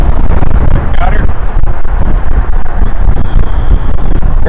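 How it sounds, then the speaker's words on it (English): Loud, constant wind buffeting the microphone while on a motorcycle, rumbling and roaring throughout with a faint muffled voice underneath. "It's really windy today."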